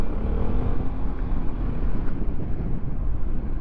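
A Yamaha XMax 250 scooter rides through city streets, a steady engine drone mixed with heavy wind rush on the microphone, continuous and fairly loud with no talking.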